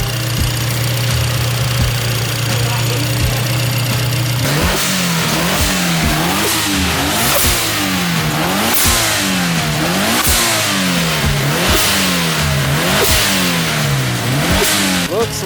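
Turbocharged Subaru BRZ / Toyota FRS engine, idling steadily at first, then revved repeatedly in quick, rhythmic throttle blips, loud and close with no talking.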